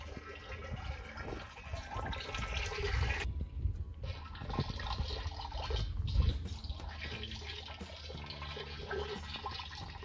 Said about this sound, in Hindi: सौ लीटर पानी, 1 किलो गुड़ और एनपीके के बैक्टीरिया जो हैं वो डाले जा रहे हैं